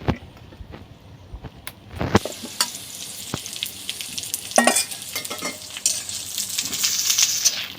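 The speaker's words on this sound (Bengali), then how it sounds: "এবার আলুগুলো দিয়ে দেবো।" Potatoes tipped into a hot pan of fried onions for a railway mutton curry, a sharp clatter and burst of sizzle, then steady frying with intermittent spoon scrapes against the pan, with no one speaking.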